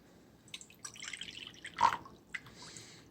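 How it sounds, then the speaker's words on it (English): Water poured from a tap into a bowl holding gel food coloring, quiet close splashes and drips in short irregular bursts, one slightly louder splash midway, with no talking. "you're just going to put a nice good amount of water in there and thin it out"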